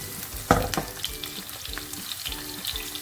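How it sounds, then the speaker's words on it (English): Onions and spring onion fry in a pan with a steady, close sizzle, broken by a few scraping stirs. "Fry my onions."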